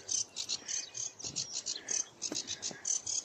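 Reed warbler song on a marsh, a continuous run of high scratchy chattering phrases with nearby insect-like chirps, fairly faint and steady throughout with no talking.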